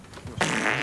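A fart in a movie scene: a short rumble bursts into a loud, raspy, sustained blast that carries on to the end, with no talking over it.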